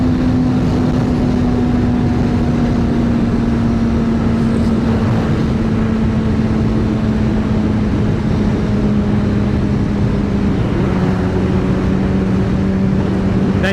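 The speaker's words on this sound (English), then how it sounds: "There genuinely is nothing quite like rowing through the gears" A Honda CBR600RR motorcycle engine drones loud and steady while the pitch climbs and settles as it shifts up through the gears, with wind and road rumble around it.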